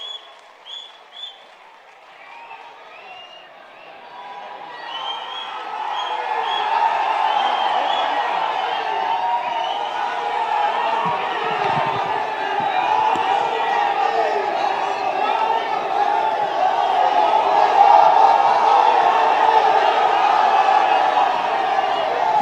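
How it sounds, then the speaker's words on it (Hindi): A large crowd at a Rahul Gandhi rally breaks into loud, sustained applause mixed with cheering and whoops. It swells after a few seconds and keeps a dense roar for about twenty seconds. "और जोरदार तालियों के साथ राहुल जी को"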